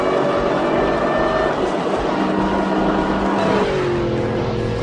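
A 2008 Shelby GT500 accelerates hard on a track, its engine roaring loud and steady with a rising pitch toward the end, heard close from inside or near the car.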